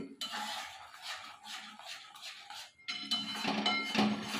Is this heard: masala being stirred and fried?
yes